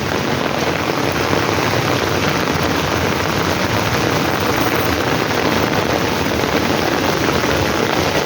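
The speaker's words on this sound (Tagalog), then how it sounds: "Kasi hindi naman ngayon lang yung ulan eh. Lagi naman na ulan sa Singapore." Heavy monsoon rain pours steadily onto a road in Singapore, a dense, even hiss of downpour that stays constant and fairly loud throughout with no voices.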